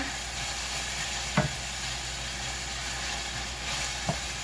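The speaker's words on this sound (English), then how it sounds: "Listen to that sizzle." Steady broadband sizzling of cauliflower and green beans frying in a pan, continuous throughout, with a couple of brief clinks of a utensil stirring.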